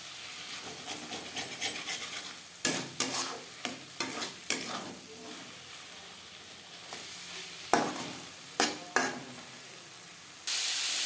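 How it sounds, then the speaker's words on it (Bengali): A spatula breaks up fish roe frying in a pan, sending repeated scraping strokes in irregular bursts over a low, constant sizzle, close and with no voices. "এভাবে একটু টুকরো করে দেবো খুন্তির সাহায্যে"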